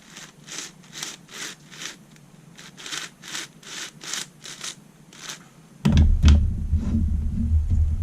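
Layers of a 3D printed 8x10x12 shapeshifter twisty puzzle turning and rubbing, repeated short scraping strokes in a steady rhythm, then a sudden louder rumbling handling noise.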